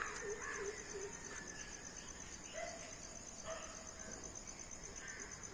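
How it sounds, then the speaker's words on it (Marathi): Faint scattered bird calls drift over a steady trill of crickets in the predawn quiet near banana plants, soft and somewhat distant. "अनेक पक्ष्यांचे आवाज आपण ऐकले"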